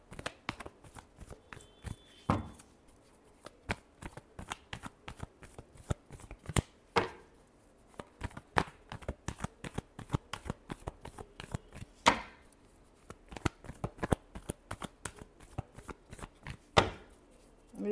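A deck of tarot cards shuffled at close range, steady rapid clicking and flicking of card edges across the whole stretch, with a few louder riffles and slaps breaking the rhythm.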